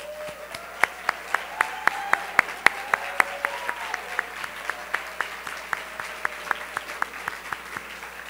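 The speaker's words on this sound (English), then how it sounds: "give them a round of applause." Crowd applause at an opening session on families and good jobs as community leaders and organizers stand, with one nearby pair of hands clapping sharply in a steady beat over the broader, softer clapping of the room.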